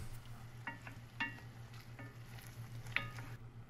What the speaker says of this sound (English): And then you stir, and you wait for that to absorb